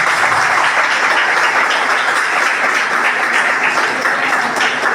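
An audience at a freshers party breaks into applause, a continuous, fairly loud wash of many hands clapping that holds steady throughout.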